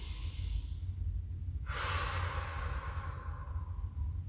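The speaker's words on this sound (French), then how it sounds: "Le fait d'avoir respiré d'abord la narine gauche, ensuite la narine droite, c'est un exercice où on équilibre l'énergie du corps" Alternate-nostril yogic breathing sounds as a close, airy nasal exhale that swells suddenly partway through and then trails off slowly, heard alone without speech.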